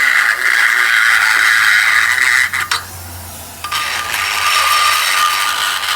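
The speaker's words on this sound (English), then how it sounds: "I'm just going to use my little Dremel tool." A small Dremel rotary tool grinds rust off the rear brake hardware of a 2007 Jeep Commander, a close, loud high-pitched whir that briefly drops and cuts out midway before resuming steadily.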